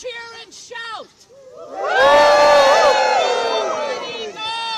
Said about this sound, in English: Let us cheer and shout.